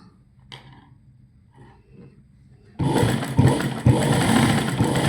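A sewing machine stitching piping onto a blouse jacket starts up after a quiet stretch of faint handling noise, running loud and steady with a few sharper bursts as the stitching continues.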